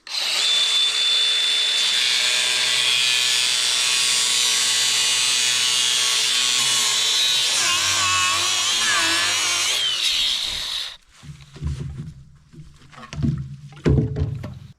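A power saw cuts down an old rusty pipe from a 100-year-old spring-fed water tank, a loud sustained whine for about ten seconds that then stops, followed by scattered clanks and handling noises.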